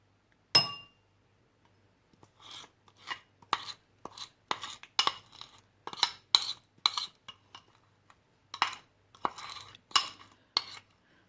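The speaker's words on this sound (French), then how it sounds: "Versez le mélange du gingembre que vous avez mélangé avec le miel dans un verre d'eau. Il faut bien mélanger le tout." Spoon clinking against a glass while ginger and honey mixture is stirred into water, a single sharp clink followed by a steady run of bright, close taps and scrapes with brief pauses, no talking.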